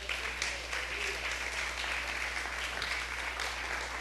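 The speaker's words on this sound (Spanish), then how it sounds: "Denle un aplauso fuerte a Jesús" A church congregation gives a loud, sustained round of applause, dense clapping filling the room without pause for several seconds.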